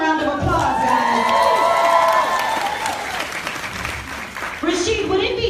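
An audience at a business training event bursts into applause and cheering, loud clapping with whoops and shouts that ebb midway and then swell again.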